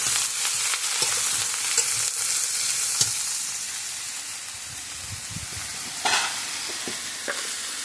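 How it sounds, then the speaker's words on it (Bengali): Ridge gourd and onion fry in hot oil, a loud, continuous sizzle close by, with occasional spatula knocks and scrapes against the pan as it is stirred, and no speech. "এবার আমি ঝিঙ্গেটা ছেড়ে দেব।"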